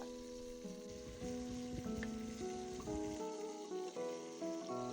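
Onions and peppers soften slowly in a pan for an Aragonese sofrito, giving a steady, low sizzle that runs unbroken throughout with faint tonal hum in the background.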